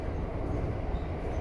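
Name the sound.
Keikyu New 1000 series train running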